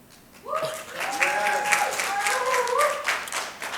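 At a city council meeting, the audience breaks into a short burst of clapping that swells and then holds steady, with a voice briefly audible over it.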